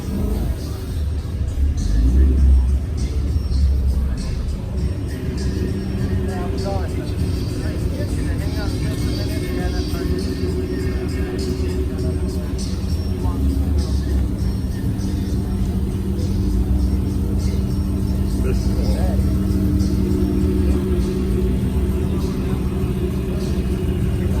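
Deep engine rumble of a big Toyota Sequoia SUV rolling past at an exotic car meet, a steady close drone lasting throughout, with people talking over it.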